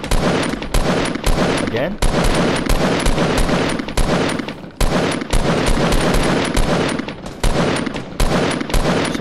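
Near-constant gunfire in a Fortnite battle royale match, loud and dense rapid bursts with brief gaps, while players talk over it.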